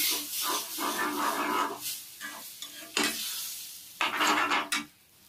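Oysters stirred into fried onion and tomato in a pan for a Karwar-style masala, with loud wet scraping and sizzling bursts in uneven strokes, close up, no talking.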